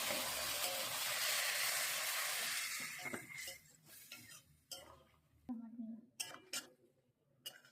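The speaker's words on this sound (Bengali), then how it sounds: "পোস্ত বেটে রাখা বাটিটা ধুয়ে এবার একটু জল দিয়ে দিতে হবে।" A bowl that held ground poppy seed being rinsed, then water added, a rush of running water followed by clinks and knocks of the bowl and utensils in a home kitchen, while someone speaks over it.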